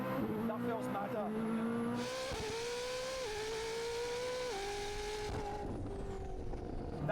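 A Koenigsegg Jesko hypercar launching in a racing video game, its engine screaming upward through a series of stepped automatic gear shifts, loud and constant, with people talking over it.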